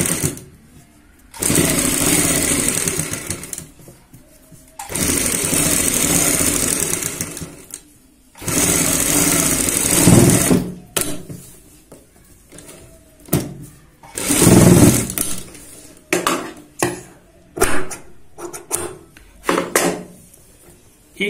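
A sewing machine stitches a kurti neckline with anchor thread in several loud, steady whirring bursts separated by pauses, with shorter stops and starts toward the end.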